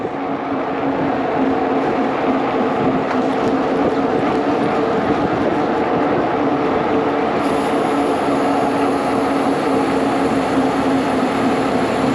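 Fat bike tyres rolling on a road during a ride give a loud, continuous droning hum mixed with rushing wind noise, steady throughout.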